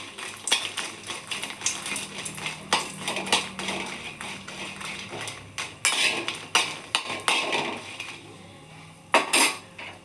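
Dry roasting Byadagi chillies in a pan for a village-style egg curry: close, irregular clinks and scrapes of a utensil stirring against the metal pan, with no one talking.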